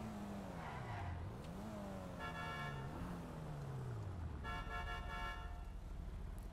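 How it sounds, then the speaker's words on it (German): A car horn in GTA Online sounds in short bursts twice, bright and honking, over a revving engine whose pitch rises and falls beneath it. "Der springt nicht an auf das normale Gehup hier."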